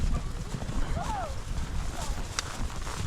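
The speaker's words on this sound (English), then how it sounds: "And we soon have 84 horses back at the corral." Horses on a drive back to the corral, hooves clip-clopping in a loose rhythm at moderate distance with a brief whinny-like call, over steady outdoor rumble and people talking.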